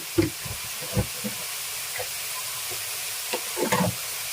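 Mustard seeds and coriander powder sizzle and pop in a frying pan in a Kerala village kitchen, a steady hiss broken by small crackles and the scrape of stirring, close and alone without speech.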